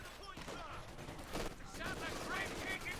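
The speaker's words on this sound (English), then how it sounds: "Obviously caught here by the machine gun." Bursts of machine gun fire and scattered gunshots in a Company of Heroes 2 battle, rapid crackling volleys at moderate distance amid faint battle noise, with a voice talking intermittently over it.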